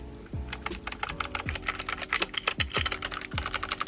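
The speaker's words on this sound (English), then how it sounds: "I got a mechanical keyboard." Steady clacking of keys on a mechanical keyboard, quick irregular strokes close up, with a few heavier thuds recurring about once a second underneath.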